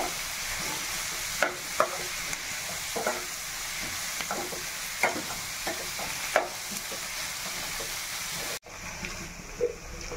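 Egg curry base frying in hot oil until browned, a steady bright sizzle with intermittent clicks and scrapes of stirring, close and continuous, no talking.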